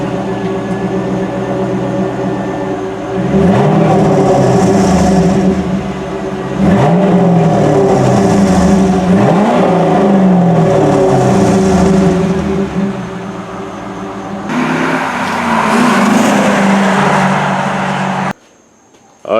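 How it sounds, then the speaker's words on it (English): A Pontiac Trans Am WS6 on its stock exhaust, loud and close, with a steady idle rumble broken by several rising revs, then a harsher surge of engine noise before it cuts off abruptly. "So now I'm gonna show you some clips of what this car sounds like bone stock."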